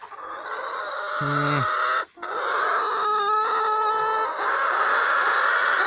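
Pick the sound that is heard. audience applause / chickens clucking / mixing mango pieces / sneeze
chickens clucking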